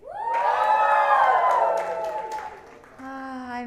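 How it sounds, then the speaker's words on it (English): Crowd at the eCYBER18 national showcase cheering and whooping in a loud burst that swells and fades over a few seconds, with voices shouting amid the noise and a sustained tone near the end. "How about in here? A lot of cheering?"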